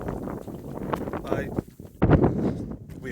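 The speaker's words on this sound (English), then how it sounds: "I would record more, but it's windy" Gusty wind buffets the microphone out on a misty hillside near standing stones, rising and falling in low rumbling bursts, with a voice speaking partly under it.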